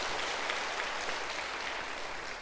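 Church congregation applauding, a dense steady burst of clapping that fills the room from many hands at once, sustained without break and lacking voices.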